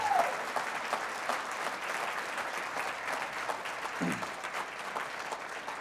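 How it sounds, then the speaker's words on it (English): Steady applause from a crowd fills the whole stretch, even and sustained without letting up. "give him a big round of applause"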